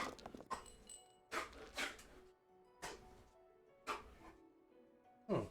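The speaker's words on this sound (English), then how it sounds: "Oh, my dog is doing something very strange." A pet dog makes odd vocal noises, a handful of short, separate bursts spaced unevenly and heard fairly close in an otherwise quiet room.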